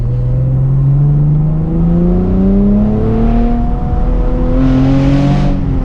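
Chevrolet Camaro V6 1LE driving along a narrow, bumpy mountain road, engine note rising steadily as it accelerates through the gears, loud and close with a continuous drone and one gear shift.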